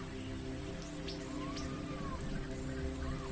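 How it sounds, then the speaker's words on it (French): Light rain falls steadily in an even, close patter with scattered drops, and a soft tonal hum sits underneath. "Une pluie fine commença à tomber, ajoutant une atmosphère mystique à la scène."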